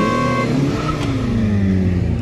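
A Fiat Punto and a Maruti Swift, both running on CNG, accelerating hard in a drag race, with loud, continuous engine drone and rising revs close by.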